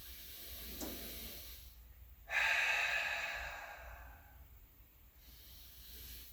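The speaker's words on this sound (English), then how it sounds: "Tuning into the sound of your breathing." A single slow breath, a soft airy exhale swelling then fading, close and quiet with no talking.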